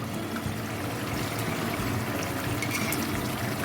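Yogurt goes into masala frying in a pan with tomatoes, setting off a loud, continuous close-up sizzle and watery hiss that holds steady throughout, with no voices.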